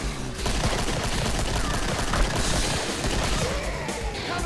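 Rapid automatic gunfire in the video game Killing Floor, dense and continuous bursts of shots filling the clip at close range and fairly loud, no clear talk over it.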